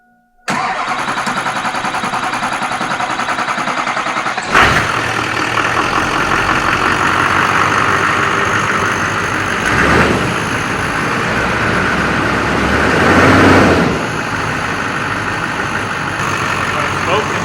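An engine fitted with replaced injectors cranks and starts, then runs at a steady, smooth idle, loud and close, with small surges in revs along the way.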